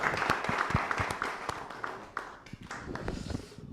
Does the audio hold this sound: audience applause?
yes